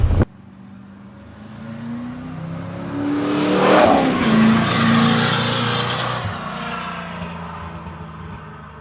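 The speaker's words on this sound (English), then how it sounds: "I just got back from that drive that you guys just saw." A 1991 C4 Corvette drives by with a brief thump at the start, then its V8 engine note swells as it accelerates, peaks loudly when the car passes, and fades gradually into the distance.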